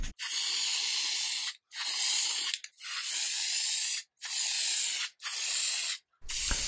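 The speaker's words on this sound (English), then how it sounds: "This is a spray-on air filter oil that I will be using on this foam unit." Spray-on air filter oil from an aerosol can being applied to a polyurethane foam air filter from a GS750 motorcycle, six steady hissing bursts of about a second each, separated by brief silent gaps, close and without talking.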